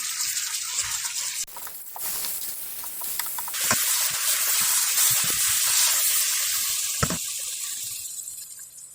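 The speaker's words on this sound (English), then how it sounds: "spinach leaves getting hot, one, they're releasing a lot of water as steam" Spinach leaves heating in a pan give off a continuous hiss of steam and sizzling water, fairly loud and steady with a few brief pops and surges.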